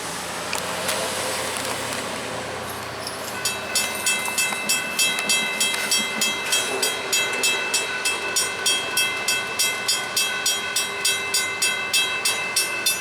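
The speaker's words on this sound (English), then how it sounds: "There's a high railer coming southbound." A hi-rail maintenance vehicle rolls southbound along railroad tracks near a railyard, its wheels giving a steady, evenly spaced clickety-clack over rail joints that grows louder and closer, with a high ringing tone above.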